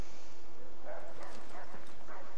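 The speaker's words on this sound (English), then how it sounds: "Oh, I hear a lot of dogs." Several dogs barking in the video game Assassin's Creed III, short repeated yaps and barks at moderate distance over game ambience, with no talk.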